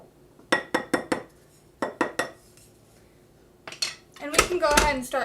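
Spoon clinking and scraping against a bowl while mixing cookie dough ingredients, a run of sharp clinks in quick bursts with a short pause, then busier clattering at the end.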